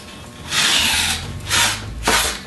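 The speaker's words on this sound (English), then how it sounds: "Apply your tape at the top and slowly, using your fingers," Fingers rub masking tape down along painted trim, making three dry, close swishing strokes. The first is longest and the next two are shorter, with no talking.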